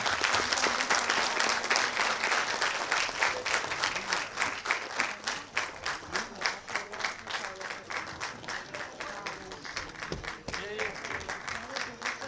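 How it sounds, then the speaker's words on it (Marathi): An audience at a public celebration event claps loudly and continuously, a dense sustained roar of hands that swells and holds throughout. "जरा जोरदार टाळ्या"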